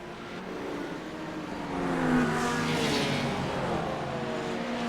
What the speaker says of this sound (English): listen to those cars go by